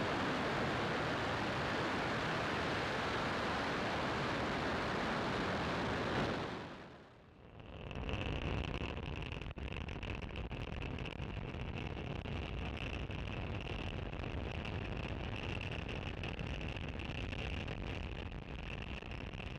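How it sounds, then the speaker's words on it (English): A SpaceX Falcon 9 carrying Starlink satellites lifts off, its engines producing a loud, continuous broadband roar that cuts out for a moment and then comes back as steady, crackling thunder with a thin tonal hiss riding on top. "Engines full power and liftoff of Starlink"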